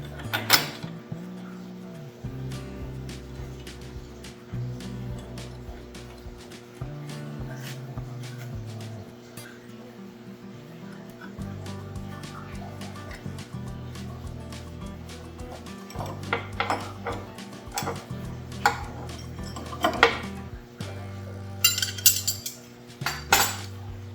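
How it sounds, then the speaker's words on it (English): A quarter-inch dado stack of two standard blades goes onto a saw: repeated metallic clinks, clatters and scrapes of blades and hardware being handled, irregular and close, over a low steady background. "So now we've got the dado stack in. It's a 1/4 inch dado stack"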